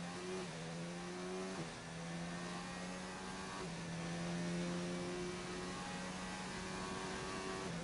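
A Renault Formula 1 race car engine in an esports racing video game drones at high revs with a raspy, buzzy tone, pitch stepping up and dropping through gear changes, steady and loud throughout.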